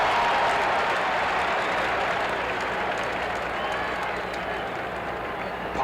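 A Royals baseball crowd of over forty thousand fills the stadium with a broad wash of cheering and applause on an October afternoon of the 1980 ALCS Game 1, loud at first and easing slightly.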